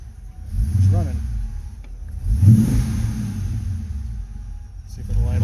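A flooded car engine runs with a rough mid-pitched rumble, surging and revving a few times, close and loud throughout.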